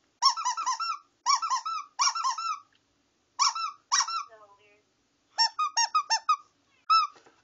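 A squeaky rubber dinosaur toy is squeezed in quick rhythmic bursts, several squeaks in a row, pausing between groups, loud and close in a quiet room.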